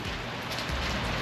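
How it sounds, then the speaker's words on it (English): Steady rain falls outside in a dense, even hiss of drops hitting surfaces, close and continuous with no voices. "Totally raining out."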